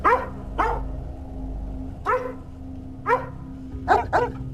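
A dog barks repeatedly nearby in irregular bursts, some as quick doubled barks, with a low steady hum beneath.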